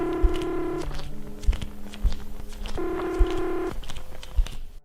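Two bursts of touch-tone telephone dialing beeps, steady stacked tones separated by a pause, with faint clicks and background noise throughout.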